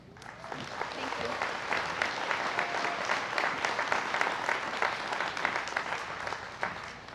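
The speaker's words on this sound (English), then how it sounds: "go ahead and give yourselves a round of applause." Commencement audience applauding a class of dental-industry graduates, a dense, steady wash of many hands clapping for the full stretch, loud and close with no pauses.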